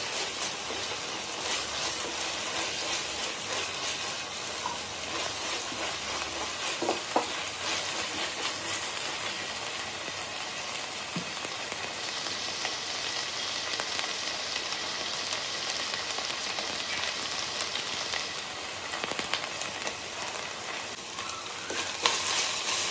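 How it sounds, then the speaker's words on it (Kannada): Ginger garlic paste fries in a pan with a continuous dense sizzle and crackle, the stirring steady and close throughout with no talk. "ಹಸಿ ವಾಸನೆ ಹೋಗೋವರೆಗೂ ಚೆನ್ನಾಗಿ ಹುರ್ಕೋಬೇಕು ಇದನ್ನು."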